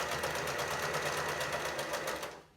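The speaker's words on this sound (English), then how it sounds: "sew around the perimeter of the mask that has already been sewn shut to reinforce it" A sewing machine runs steadily around the edge of a fabric face mask, a close, even rapid stitching rhythm that winds down and stops at the very end.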